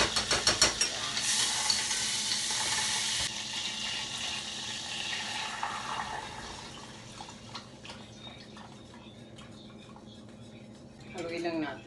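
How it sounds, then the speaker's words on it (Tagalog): Yema mixture being stirred in a pan, with scraping and soft sizzling that is loud at first and then fades to quieter stirring, ending in a brief louder burst. "Haluin lang natin. Hanggang maging yema."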